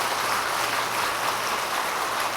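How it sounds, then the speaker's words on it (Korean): An audience claps at a Buddhist dharma lecture marking a cultural center's anniversary, a dense, even patter of many hands sustained without a break. "박수를 치려면 화끈하게 치든지 아니면 말든가 해간"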